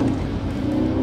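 An Aston Martin's engine drones steadily while the car is driven, a loud, continuous low roar heard from inside the cabin with no talking over it.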